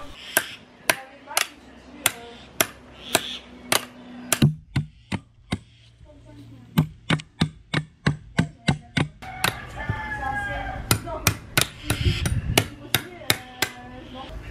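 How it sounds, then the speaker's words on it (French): A knife or heavy blade whacks repeatedly into a coconut to open it for its water, giving sharp, evenly spaced chopping strikes close up. A brief pause comes midway, then a faster run of blows with some background noise. "il va falloir réussir à ouvrir la noix de coco"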